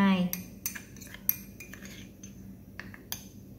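Metal spoon scooping tapioca starch from a container for a cocoa-milk filling, with a few clinks and scrapes against the bowl, close and quiet, and no talk.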